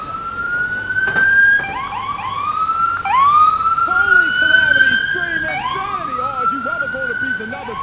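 Wailing emergency vehicle siren, the Philippine "wangwang" used by officials' convoys, rising and falling in repeated sweeping tones, loud and close, with overlapping siren layers.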